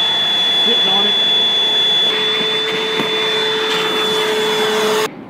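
A Milwaukee M18 Packout 0970-20 wet/dry vacuum runs close and loud with a steady whining roar and a high tonal hum, then cuts out abruptly near the end.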